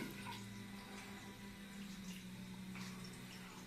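Water runs steadily from a tap, a soft continuous splashing hiss with no voices.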